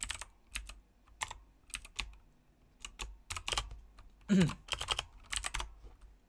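Keys on a computer keyboard clatter close by while Java code is entered, in irregular bursts of crisp clicks separated by short pauses, with one louder cluster of strokes near the end.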